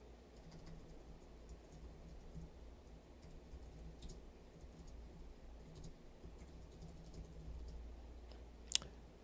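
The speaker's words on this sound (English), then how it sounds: "I'm going to quickly just type out a quick message here." Soft keys are tapped on a computer keyboard while a message is typed, producing sparse, irregular light clicks against a low steady hum, with one sharper louder click near the end.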